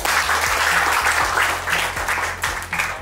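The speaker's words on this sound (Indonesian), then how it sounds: "Applause buat kalian semua." Crowd applause at a gathering honouring a football club CEO, a steady dense wash of clapping lasting a few seconds over faint background music.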